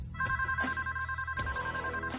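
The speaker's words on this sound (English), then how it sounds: "The phone rang." A telephone rings with two long electronic ring bursts separated by a short gap, clear and steady against a low background hum.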